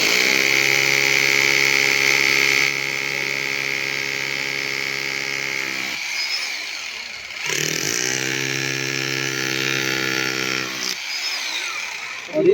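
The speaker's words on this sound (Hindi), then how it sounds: "ड्रिल सबसे पहले नंबर 6 नंबर बीट से करेंगे इस प्रकार से" An electric drill bores into a surface with a number 6 bit while mounting a satellite dish, a steady high whine in two long bursts separated by a short pause, loud and close.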